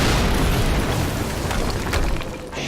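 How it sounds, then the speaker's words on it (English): An explosion in the video game Quantum Break, a loud sustained rumbling blast that fills the whole moment and fades slightly at the end. "we just heard an explosion near the harvesting perimeter"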